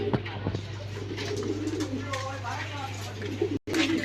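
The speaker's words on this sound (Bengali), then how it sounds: "একজোড়া রেড কালার সিরাজি কবুতর, খুব সুন্দর রেড কালারের একজোড়া সিরাজি কবুতর" A pair of red Sirazi pigeons coo softly over a steady low hum, with a brief dropout near the end and voices faintly mixed in.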